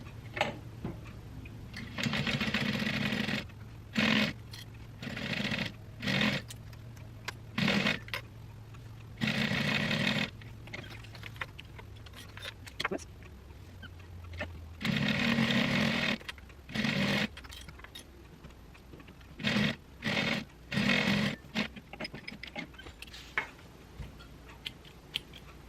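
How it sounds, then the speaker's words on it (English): A sewing machine runs in short bursts of rapid mechanical stitching, top stitching about an eighth of an inch from the edge of a bag's handles, with pauses between runs and small clicks of the machine nearby. "Let's go to the machine. And I'm just going to sew on either side about 1/8 of an inch"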